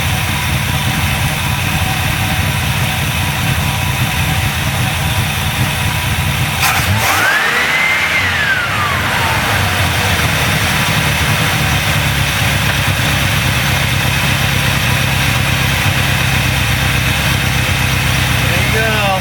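A small engine running on old ethanol gasoline idles steadily for the whole stretch, a constant mid-pitched rumble with a brief rising and falling whine partway through, heard close and fairly loud.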